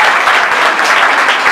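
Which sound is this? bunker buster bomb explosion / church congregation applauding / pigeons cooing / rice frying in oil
church congregation applauding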